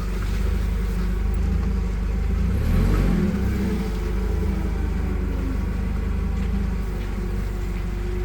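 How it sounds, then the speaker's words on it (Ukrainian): A 2022 Toyota 02-8FGL25 gas/petrol forklift runs its engine to drive the hydraulics, a steady close mid-pitched drone that swells briefly in a short rev before settling back to an even run. "Покажу, як зараз працює гідравліка."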